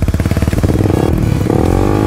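A Suzuki GSX-R150 sport motorcycle engine revs hard and steadily, its pulsing drone loud and close, with a faint scraping clatter.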